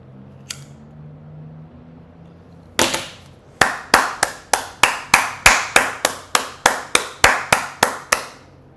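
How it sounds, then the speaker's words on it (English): A single person clapping, a slow, even run of about fifteen sharp, close claps after a brief pause, with no talk. "Smoking applause to all the perfect women"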